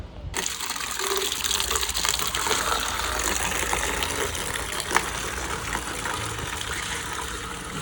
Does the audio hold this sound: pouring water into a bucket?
yes